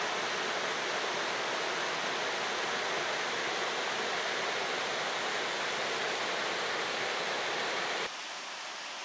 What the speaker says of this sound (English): To the north, there lies another cascade, and it's on Cascade Brook.